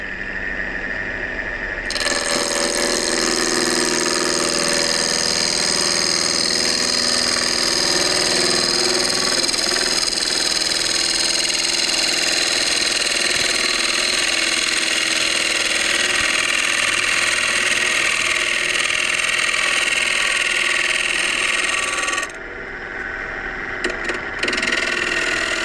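A wood lathe spinning a beverage smoker blank at about 1000 RPM while it is turned, a loud, continuous droning whine with a scraping tool edge that holds steady for about twenty seconds, then cuts off.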